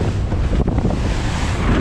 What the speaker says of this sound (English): We've got water coming over the bow at the moment.